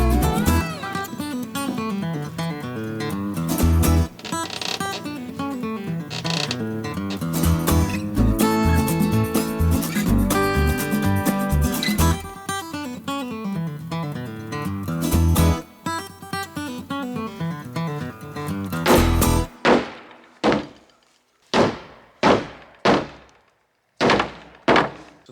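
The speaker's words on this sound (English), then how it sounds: "We're gonna try and use this pry bar to see if we can pop this board out." A pry bar pops a nailed board off a chicken coop on a wooded homestead: after a long stretch of dense music, a string of sharp, separate cracks and thunks rings out alone near the end.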